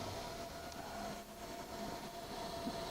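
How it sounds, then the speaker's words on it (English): An R8 spindle on a Sharp OMV CNC vertical mill runs in high range, a steady, even machine hum with a faint whine held at constant level throughout. "We're running the spindle right now."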